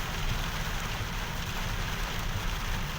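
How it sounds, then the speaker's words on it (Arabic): Heavy rain falls steadily as a dense, continuous hiss with low rumble, constant and loud throughout with no voices. "الشتا ديال بصح"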